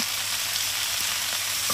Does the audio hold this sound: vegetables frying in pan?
yes